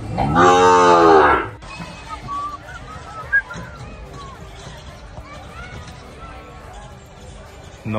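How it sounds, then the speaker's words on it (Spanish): A purebred Gyr heifer, raised from embryo transfer on a farm in El Salvador, lets out one loud, close moo lasting about a second, followed by quieter outdoor background with a brief knock and people talking faintly. "Novilla Gir pura, de transferencia de embrión, hija de Calica"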